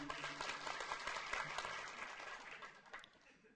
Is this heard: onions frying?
no